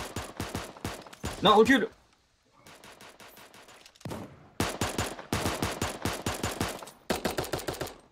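Rapid bursts of automatic gunfire in the battle royale game Super Animal Royale, several clattering volleys separated by short pauses, loud and close, with a voice speaking briefly between shots.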